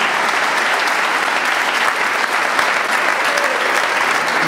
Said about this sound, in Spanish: Yo quiero que les brinden un fuerte aplauso